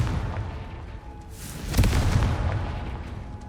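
A Confringo spell explosion in the Hogwarts Legacy video game bursts with a loud blast that swells into a rumbling roar amid ongoing fiery background noise.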